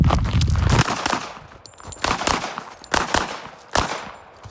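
.45 ACP pistol fired while the shooter moves, a run of sharp, loud shots at uneven intervals, close and reverberant on an outdoor range.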